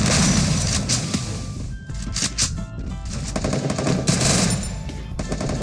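Loud bursts of automatic gunfire in a mobile shooter video game, rapid rattling volleys and single cracks coming in uneven clusters with brief pauses, close and unbroken by talk.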